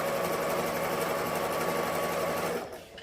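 A sewing machine stitches ribbon trim onto a tutu, a fast continuous whirring chatter up close that stops abruptly near the end.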